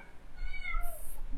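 A house cat meows indoors during a conversation, a single drawn-out, wavering cry at moderate distance, close enough to stand out clearly against a low background hum.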